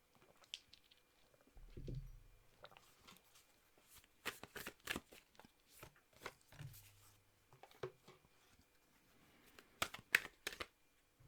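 Oracle cards are shuffled by hand in quiet, irregular bursts of soft riffling and tapping, with a couple of low thumps as the deck is handled.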